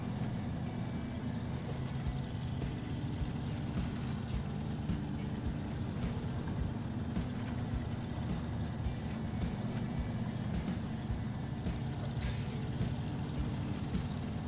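A Fleet Star truck labors up a steep hill out of a quarry in the game Snowrunner, its engine droning steadily and loudly under a dense wash of mechanical noise, with no voices.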